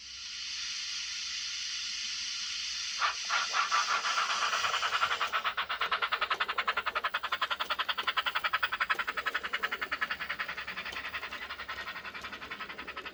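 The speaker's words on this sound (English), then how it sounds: "the firebox door opens, coal shoveling starts" A model steam locomotive's sound unit: a steady hissing rush of steam gives way to rapid rhythmic chuffing pulses, like a small locomotive puffing continuously at an even pace, as the firebox door opens and coal shoveling starts.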